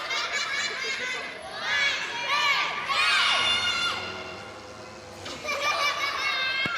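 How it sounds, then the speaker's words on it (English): Children's audience at a music show shouting and cheering loudly and continuously, with excited young voices overlapping throughout and no clear clapping. "Everyone give the boys a big round of applause there"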